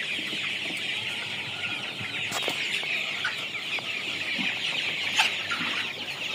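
Color bird meat chickens cluck softly and continuously over a steady hiss of background noise, with occasional sharper calls and no talking.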